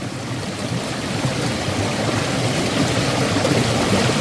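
Water pouring and rushing steadily at Sambalaru waterfall above Kurangani in the Western Ghats, a dense continuous broadband roar that holds at an even, fairly loud level from start to finish with no voices.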